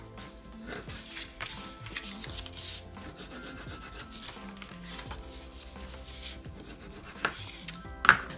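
A printable paper envelope is folded inward by hand. Close, uneven paper rubbing and swishing creases come in bursts, with a few sharper crinkles near the end.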